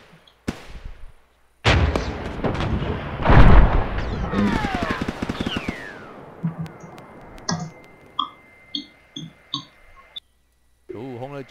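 Artillery shells fire and explode in the military video game ArmA, heavy booming impacts followed by a rumbling tail, then a series of sharper distant blasts spaced a second or so apart, with a voice speaking through the barrage.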